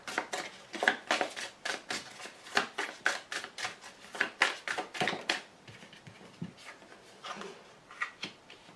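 Tarot cards being shuffled for a second card, a quick series of crisp riffling and slapping bursts, close and fairly quiet, with no talking.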